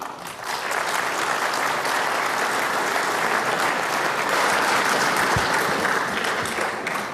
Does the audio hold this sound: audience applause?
yes